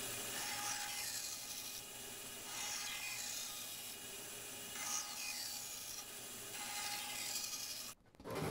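Hand tool cutting away waste wood from a tenon, a steady close rasping and scraping in long repeated strokes that stop abruptly near the end, no talking.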